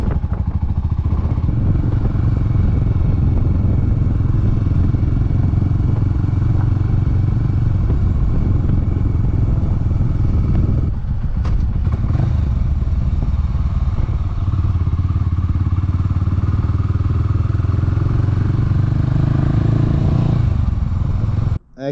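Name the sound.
Honda GB500 motorcycle riding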